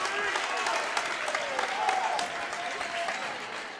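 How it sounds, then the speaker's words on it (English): The Central Aroostook student section claps steadily at a girls' high school basketball game, a dense, even wash of applause from many hands that holds at a fairly low level throughout. "clapping"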